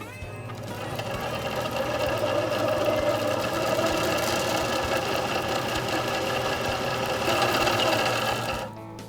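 An HD140 line winder machine spools fishing line onto a conventional reel, giving a steady, close mechanical whir and hum with a fine rattling buzz that runs evenly for several seconds before spinning down.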